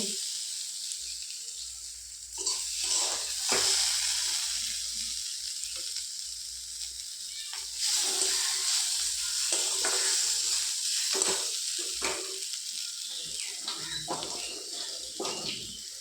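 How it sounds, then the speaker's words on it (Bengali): Vegetables, pointed gourd and kedori, fry in oil in a pan over low heat, giving a steady soft sizzle broken by scraping and stirring clatter, with intermittent talking over it. "3 মিনিট মতো হালকা আঁচে ভেজে নিলাম সবজিগুলো"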